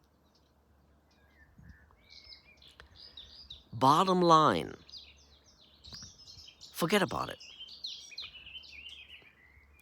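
Birds chirp and tweet outdoors in quick high flurries, loud in a couple of bursts and fainter scattered calls around them, with someone talking briefly between.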